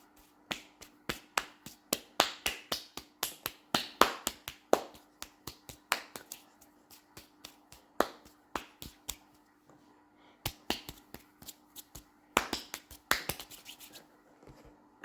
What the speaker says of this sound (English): with a tight and fast rhythm, you can hit 19 claps in a single second